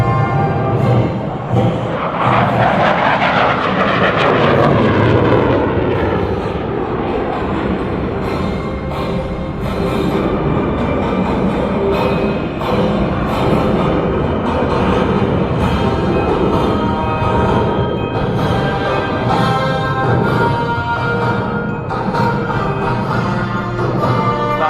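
A J-10 fighter jet flying an aerobatic display at an airshow roars loud and continuous throughout, with a broad sweeping engine tone that swells early and stays steady.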